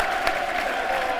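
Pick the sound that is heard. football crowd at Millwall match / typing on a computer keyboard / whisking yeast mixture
football crowd at Millwall match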